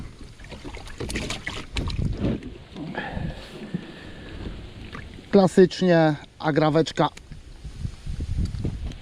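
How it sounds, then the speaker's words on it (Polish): Strong wind buffeting the microphone beside a river while fishing for carp and catfish, a broadband rumbling gust noise throughout with someone speaking in short bursts over it. "Takie jest wiatrzysko."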